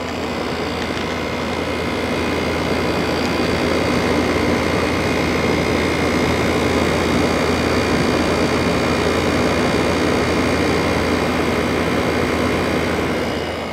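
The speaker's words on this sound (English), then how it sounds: "This does have an LG compressor, which is pretty quiet." An LG ThinQ 10000 BTU window air conditioner runs its LG compressor, giving a loud, steady, close mechanical hum with a low drone that stays constant throughout.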